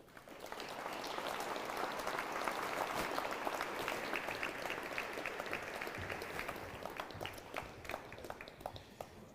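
Sustained applause fills a room at a sports awards ceremony, rising quickly and holding steady before thinning into scattered individual claps, heard from a distance and fairly faint.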